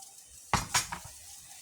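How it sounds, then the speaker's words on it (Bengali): Cut potatoes coated in turmeric and salt drop into hot oil in a kadai, with a quick clatter of pan and utensil followed by a soft, brief sizzle. "এখন আমি কেটে রাখা আলু আমি প্রথমে ভেজে নিব। তেলের মধ্যে ভেজে নেব।"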